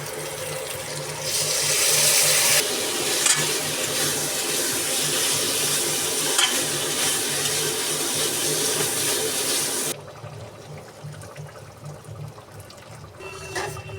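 Potatoes and spices fry in a pan with a dense, steady hiss that runs loud for most of the stretch, then drops abruptly to a quieter crackle near the end.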